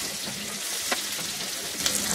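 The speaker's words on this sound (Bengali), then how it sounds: "এখন আমি মিডিয়াম আঁচে ভাজতেছি," Chopped onions, about a cup, frying in oil over medium heat for a budget tehari, giving a steady hiss of sizzling with a few brief stirring clicks, close and even throughout.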